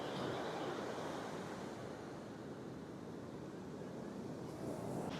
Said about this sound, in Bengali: এক একটা ঢেউ আসছে দেখো।